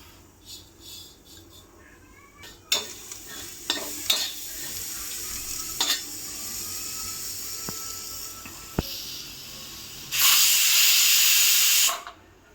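Whole spices dry-roast without oil on a hot tawa over a gas flame, with scraping stirs and soft crackling throughout, then a loud steady hiss bursts out for about two seconds near the end.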